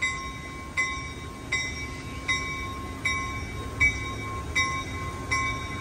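An Amtrak Capital Corridor train pulls away from Oakland's Jack London Square station on a rainy day, giving a faint, distant rumble with a high tone and sharp squeals or clanks at regular intervals under steady background noise.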